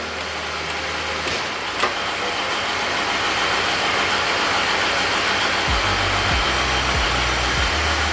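A 40-year-old C3 Corvette, ailing and idling near 2,000 RPM with the battery light on, hums steadily once shifted into drive, and a low pulsing drone appears faintly beneath the engine and cabin noise toward the end.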